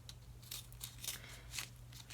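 Several quick snips of worn scissors cutting through tape, close and fairly quiet, repeated in an uneven rhythm.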